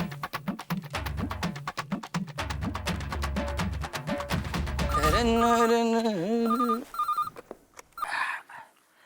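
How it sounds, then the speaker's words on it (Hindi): A telephone rings with a repeating melodic tone that gives way to a sustained warbling ring, loud and close. "अय्यर को फोन लगाता हूँ।"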